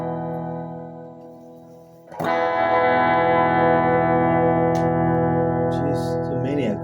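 Electric guitar through a loud Kustom combo amp with no reverb or tremolo, a decaying note followed by a strong sustained chord ringing loud and close.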